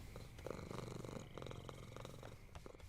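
Cats in the video game EVO purr in a soft, steady, rhythmic rumble that stays faint and close, with no talk over it.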